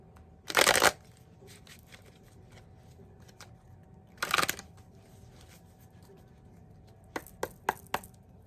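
Tarot cards are shuffled in short, brisk riffling bursts, two longer ones followed by several quick flicks, close by over a quiet room.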